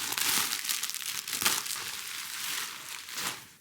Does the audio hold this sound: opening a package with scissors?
yes